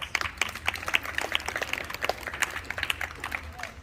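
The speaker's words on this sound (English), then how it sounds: "So give yourself a round of applause." Scattered, fairly quiet clapping from a small outdoor crowd at a multicultural mental health fair in DeKalb County, individual claps distinct and uneven over a few seconds.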